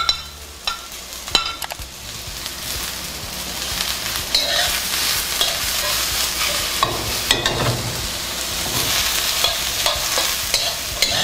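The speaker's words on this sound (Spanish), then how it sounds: "Aproximadamente un minuto nada más vamos a dejar sofreír" Chiles and aromatics sautéing in a frying pan for Mexican-style fried eggs, a loud continuous sizzle and crackle with repeated scraping and clinking of a spoon stirring the pan, no voices.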